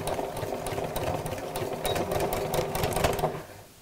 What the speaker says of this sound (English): you can just do a little running stitch backwards and forwards a couple of times on your sewing machine.